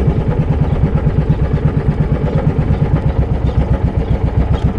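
A steady, loud mid-pitched engine chugs with a regular throbbing rhythm, a small fishing boat motor running close by at sea off Mindoro, Philippines, without any talk.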